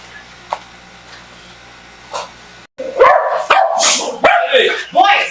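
Several dogs barking loudly indoors in a home, a burst of close, repeated barks coming in clusters after a quiet stretch, with people talking around them.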